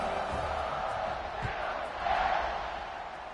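A football stadium crowd roars in a broad, steady wash of cheering that swells slightly toward the end, distant and massed rather than individual voices.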